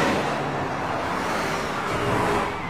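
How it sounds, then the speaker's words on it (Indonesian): A bus approaches in a scene from the film Final Destination, a steady, loud rumbling vehicle roar that holds throughout and eases slightly at the end, with no speech. "saat Claire mendengar suara bus"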